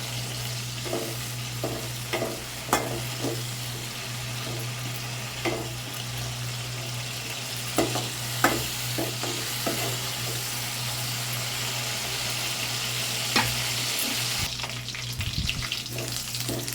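Turkey berries fry in oil in a pan, a steady close sizzle broken by repeated sharp clinks and scrapes of stirring at irregular intervals, with no speech.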